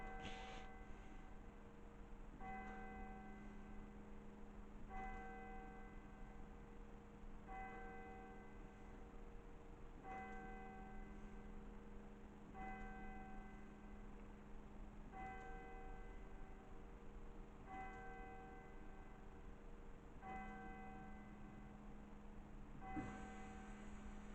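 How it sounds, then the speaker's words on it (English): The church bell of St Michael's, Whittington, Lancashire, tolls eleven slow, evenly spaced strikes at 11 o'clock, faint and distant, each ringing out before the next. "Here go the bells, 11 o'clock."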